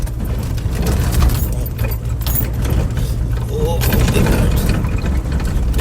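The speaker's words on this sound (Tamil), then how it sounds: "எவ்வளவு பெரிய ட்ரெயின் போகுது பாருங்க. 4 இன்ஜினை போட்டு போகுதுங்க." A long freight train hauled by four locomotives rumbles past in a steady, heavy drone with clanking, while a person talks over it nearby.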